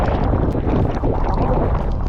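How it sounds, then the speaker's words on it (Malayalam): Strong wind buffets the microphone at a misty hilltop viewpoint in light drizzle, a steady, loud roar of gusts with no voices. "ഫീലാണ് കേട്ടോ നല്ല കാറ്റാണ് നല്ല കാറ്റ്"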